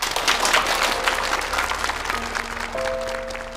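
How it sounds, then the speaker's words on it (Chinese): An audience applauds to welcome someone onstage, a moderately distant, steady patter of clapping that slowly fades while soft musical tones enter underneath. "让我们用最热烈的掌声欢迎"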